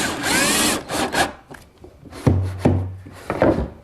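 A power drill bores a pilot hole for a screw into wood, with short bursts of high whirring and chattering cuts separated by pauses and a low motor hum near the end, up close with no talk.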